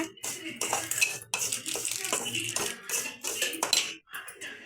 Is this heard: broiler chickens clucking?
no